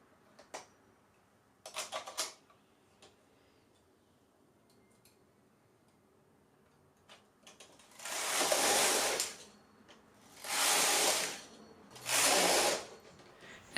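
A domestic knitting machine carriage, knitting a hooded scarf, slides across the needle bed in three separate rasping passes, each about a second long, after a quiet stretch with a few faint clicks and knocks.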